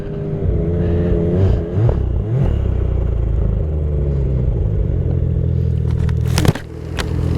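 A 2023 Ski-Doo 850 snowmobile runs loud and close with a steady, throaty engine drone, its pitch shifting slightly as it passes, then a sharp thump near the end.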